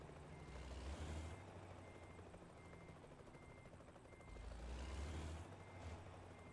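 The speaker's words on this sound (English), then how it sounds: "I don't know why I'm hearing a helicopter." A helicopter in American Truck Simulator whirs low and steady beneath truck engine rumble, with repeated reversing beeps and a couple of air-brake hisses. The scene sounds quiet and distant.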